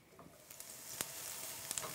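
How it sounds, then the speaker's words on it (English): Chopped onion sautés quietly in a pan for pasta puttanesca, a faint steady sizzle broken by a few sharp crackles and pops. "We're going to saute this until the onion is almost clear"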